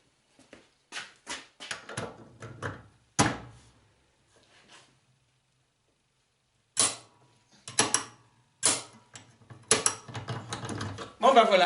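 Torque wrench set to 15 kg clicking as front-axle parts of a Citroën Traction 11 are tightened, several separate close ratcheting clicks and mechanical snaps with quiet gaps between them.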